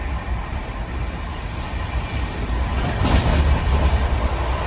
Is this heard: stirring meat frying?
no